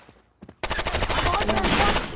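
Loud, rapid automatic gunfire in a shooter video game, a dense rattling string of shots after a couple of short clicks, close and continuous to the end.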